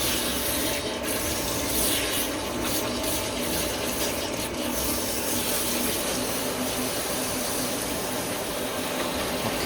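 A steady shower of water runs over a dog being washed at a grooming session, making a continuous hissing, splashing rush at an even, fairly close level.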